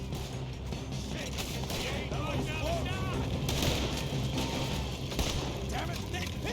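Gunfire in a Red Dead Redemption 2 shootout: repeated shots and bursts mixed with game music and effects, with people shouting and talking over it throughout.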